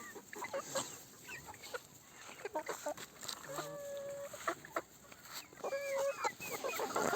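A three-month-old hen clucks and makes a few short, drawn-out calls close by, among other chickens and some faint background voices.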